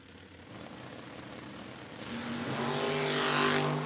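A 1968 Dodge Dart and a 1985 Oldsmobile Cutlass launch in a no-box drag race, engines building from a steady drone into a loud rising roar with strong harmonic whine as the cars accelerate away.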